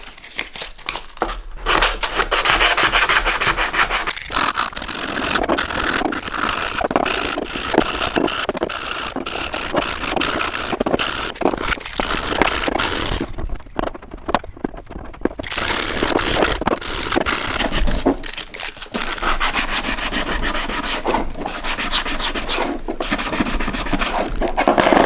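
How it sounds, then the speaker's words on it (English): Sandpaper rubbing back and forth in a crisscross over wooden pieces, continuous close scratchy strokes with a few brief pauses between passes. "I'm gonna take a sandpaper and start to make a crisscross on them."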